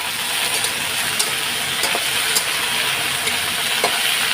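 Potatoes frying with black cumin seeds get stirred in a pan, giving a steady bright sizzle with occasional scraping clicks of the spoon and no voices.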